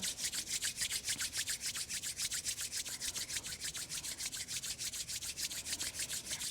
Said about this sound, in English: Begin rubbing the palms together to create some heat, to create energy.